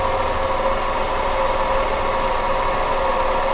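A Tata Tiago petrol engine idles with heavy vibration, a steady, loud, continuous mechanical drone with a rough texture throughout, close to the microphone and with no speech over it.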